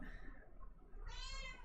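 A cat named Paprika gives a single drawn-out meow toward the end, faint and close, over a low background hum.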